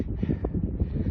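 Low, buffeting gusts of wind on an exposed mountain walk in the Berwyn hills, rumbling against the microphone in uneven surges with no voices.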